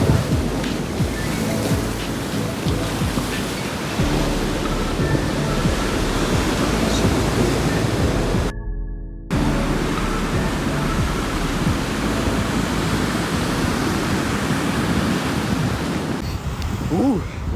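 Continuous roaring Pacific Ocean surf at the bottom of a water slide in San Diego, broad wash of breaking waves close by, with a brief muffled dropout midway as if submerged.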